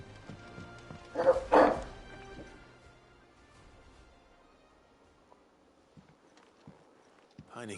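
A dog in the Final Fantasy 16 video game barks in two loud, close yips, followed by quieter footsteps and faint clops, with game dialogue around.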